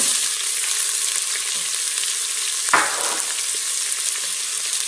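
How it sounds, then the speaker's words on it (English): Onions frying in an electric pressure cooker, a loud, dense, even sizzle throughout with one brief scrape near the middle and no speech. "Now we're going to go ahead and throw in our onions."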